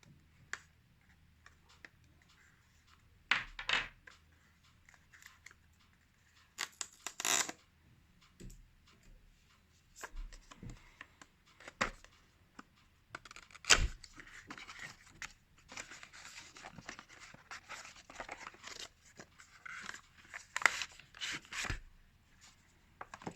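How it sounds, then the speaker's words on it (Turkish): Retail packaging of Xiaomi Mi True Wireless Earphones 2 Basic Bluetooth 5.0 touch earbuds being opened by hand: scattered sharp clicks, taps and light scrapes of cardboard and plastic, close and fairly quiet, with no talk. "Şimdi ürünü şöyle bir açalım."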